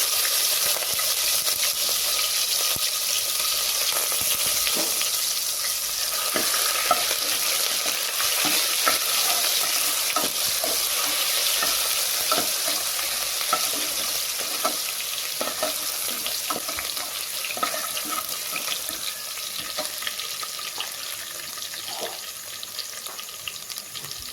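Cumin and garlic-ginger paste fry in hot oil for a vegetable biryani, giving a steady bright sizzle with occasional stirring scrapes and clicks, continuous and close for the whole stretch with no talk.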